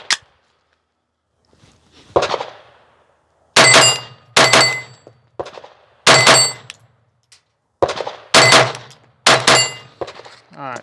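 Rapid pistol shots from a Glock 44 ringing off steel targets, fired in several quick bursts of two or three sharp, loud cracks each with short pauses between strings, plus a single earlier shot and a softer impact.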